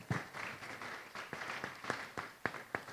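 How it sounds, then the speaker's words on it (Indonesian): A few scattered, faint hand claps ring out in a conference hall after an answer during a panel discussion. About eight separate sharp claps are spaced unevenly over a quiet background. "Mari kita beri tepuk tangan untuk jawabannya."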